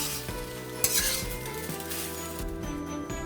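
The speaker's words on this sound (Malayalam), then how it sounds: "ഇനി നമുക്ക് റൈസ് ഒന്ന് ഇട്ട് കൊടുക്കാം" Cooked rice tipped into a hot pan of chicken fried rice, with loud metal scraping and clanking of a spatula against the pan over a steady frying sizzle.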